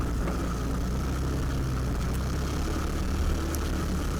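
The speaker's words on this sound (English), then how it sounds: "Doesn't the exhaust note sound awesome?" Steady low exhaust rumble of an off-road vehicle on a trail, constant and fairly loud throughout with no pauses or speech.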